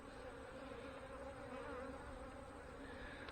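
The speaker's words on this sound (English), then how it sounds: "And there's new bees in there." Honey bees at an open hive during an inspection near fireweed make a dense, steady buzzing drone. The swarm hums close but quietly, unbroken and without talk.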